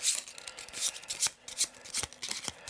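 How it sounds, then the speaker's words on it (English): An enemy power card deck from the Sword & Sorcery Immortal Souls board game is shuffled by hand, giving close, repeated riffling and sliding bursts of card noise with no talking. "So we'll give it a bit of a shuffle, as it's the first time we're using it."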